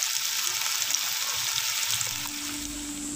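Onions browning in oil in a pot for a village-style chicken palao, giving a steady, close hiss and crackle of frying throughout with no voices.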